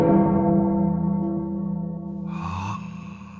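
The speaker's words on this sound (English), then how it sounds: "That was the bell tower, the one that had never, ever been used as an alarm clock." A church bell tower rings, its deep sustained tone with layered overtones slowly fading, followed by a brief breathy burst near the end.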